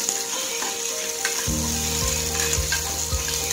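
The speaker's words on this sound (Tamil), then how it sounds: "சின்ன வெங்காயத்தை அது போட்டு நல்லா வெங்காயம் வந்து வதங்குற வரைக்கும் எண்ணெயில் நல்லா வதக்கணும்" Small onions (shallots) sautéing in hot oil, a loud, steady sizzle, with several dull thumps of a spoon against the pan in the second half; no voices.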